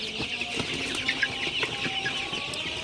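Sonali super hybrid chickens on a hobby farm at night, many birds clucking softly and repeatedly at close range in an overlapping, irregular chatter, with no talk.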